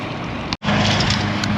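Strong headwind roaring over the microphone on a road bike ride in the Atascocita–Huffman area near Kingwood, a loud steady broadband rush with one brief dropout partway through.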